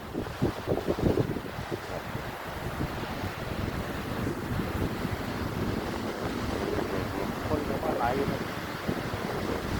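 Sea waves and wind at Kinnaree beach make a loud, continuous broadband wash with steady surf and wind buffeting the microphone throughout.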